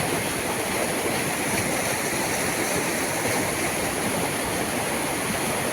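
Fast-flowing stream water rushing past, a dense continuous loud gushing and splashing close to the microphone, steady throughout with no voices.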